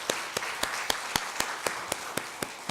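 A church congregation at a New Year blessing revival service applauds together, about a dozen sharp claps falling in a steady, even rhythm over a continuous wash of crowd noise.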